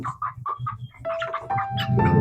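A desi hen on a poultry farm clucking loudly and close by while held in someone's hands, with rapid, insistent calls that grow busier toward the end.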